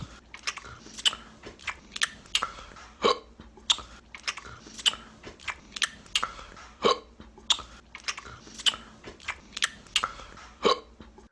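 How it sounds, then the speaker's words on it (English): An edited beat of isolated lip smacks looped into a steady rhythm, with sharp clicky smacks repeating about every second and one burp-like hiccup dropped in, all close and dry with no talking. "So I just isolated all the lip smacks into this. And then that one hiccup that he had, that kind of like burp hiccup that he had."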